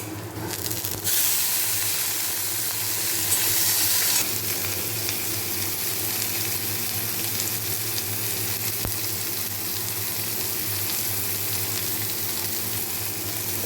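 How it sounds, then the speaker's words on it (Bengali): Food frying in hot oil on a gas stove in a home kitchen, with a steady, close sizzle and hiss that is loudest in the first few seconds and then continues evenly. "এটা ভেজে নিই"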